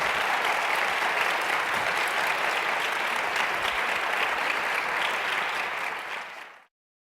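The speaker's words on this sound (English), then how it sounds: "Let's give a round of applause to all our presenters tonight." An evening audience at Penn gives the presenters of a music and poetry event sustained, dense applause that holds steady for several seconds and then fades out abruptly.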